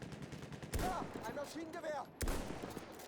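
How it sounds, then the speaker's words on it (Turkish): Battlefield 1 machine gun fire in two loud, dense bursts, one early and one late, with a voice talking between them over a steady game background. "Bir tane makinalı var."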